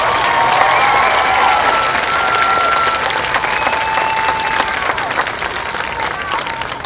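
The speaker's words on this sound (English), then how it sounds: "Again, please join me in a well-earned round of applause for Ms. Peyton Clinkscales." Sustained applause from a large crowd at a high school graduation, dense steady clapping that slowly fades, with faint cheers and a few whistles mixed in.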